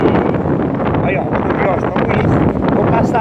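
Strong wind in a sandstorm blowing dust, a loud, constant roar buffeting the microphone, with someone talking over it.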